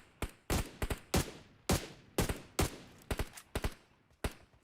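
Gunfire in a PUBG Mobile esports match: loud, sharp bursts of rifle shots, some single cracks and some rapid clusters, ring out in an irregular rhythm with brief gaps between volleys.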